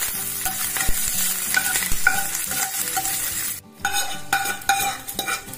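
Tempering spices sizzling in oil in a pan, a loud close crackle with repeated metal scraping and stirring knocks and a brief pause before it resumes.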